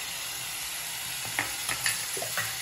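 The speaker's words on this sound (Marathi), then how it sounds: "याच्यात मी आता टाकते ही कोथिंबीर आणि पुदिनाची पेस्ट होती ती" Coriander and mint paste sizzles in a hot pan over ginger-garlic paste while cooking chicken biryani, a steady close frying hiss with a few soft stirring clicks toward the end.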